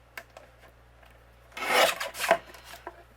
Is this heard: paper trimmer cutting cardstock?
yes